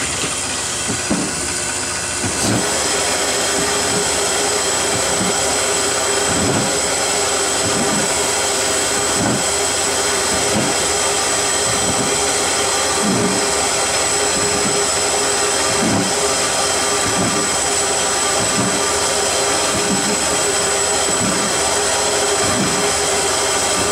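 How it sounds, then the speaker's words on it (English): A vapor blaster runs while cleaning small fasteners, giving a loud continuous jet-like hiss with a regular pulsing thump repeating every second or two throughout. "I'll throw these in the vapor blaster and run these"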